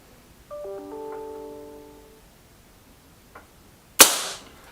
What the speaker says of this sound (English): Final shot.